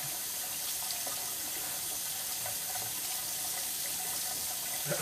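Water runs steadily from a kitchen sink tap as a bird bathes, a constant close splashing rush that stays even throughout.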